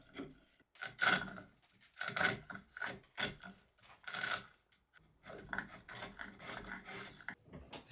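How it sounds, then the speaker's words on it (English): A chisel pares and cleans up the wooden tenons of a handmade mallet, giving a quick series of dry, rasping scrapes and shaving strokes in irregular bursts, close and fairly loud. "With the tenons roughed out, I can come in with the chisel and do some very satisfying cleanup."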